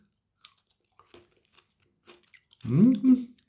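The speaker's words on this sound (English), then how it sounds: "Let's try this pear. Imagine me being a socialist countess, munching away on this." A bite into a soft, juicy Gräfin Gepa pear followed by wet munching, with a few faint mouth noises before one loud crunchy bite and chewing near the end, close to the microphone.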